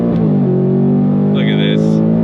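Ford Mustang GT V8 from 2024 wringing out toward 7,500 RPM at full throttle, a loud, steady, sustained engine roar heard from close by for a couple of seconds.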